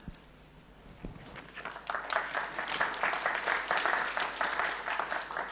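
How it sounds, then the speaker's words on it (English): Audience applause breaks out at a university dentistry and oral health information event, starting after a quiet second and swelling into steady, fairly loud clapping from a sizeable crowd that continues to the end. "People normally clap when I finish, not when I start."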